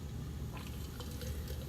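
Liquid poured from a height into a glass or container, a faint, steady splashing trickle with a few brighter drips over a soft background hiss.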